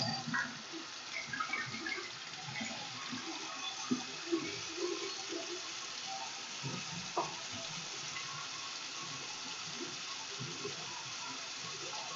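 Tap water runs steadily at a lash-tint station while hands are scrubbed beneath it, a continuous close splashing hiss with small irregular bumps as the hands move through the stream.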